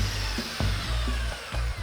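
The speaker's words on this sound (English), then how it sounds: "40 grit with a belt sander and then go to 80." A belt sander with 40-grit paper grinds across a tree-ring cross-section. The loud, close motor drone is interrupted by brief dips and shifts as the sander presses and lifts.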